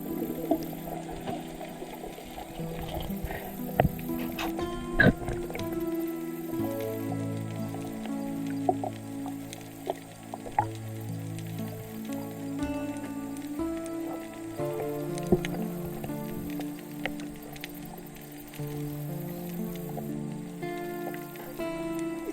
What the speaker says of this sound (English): It was raining so heavy that you can actually hear the rain on top of the water from the depth that I was.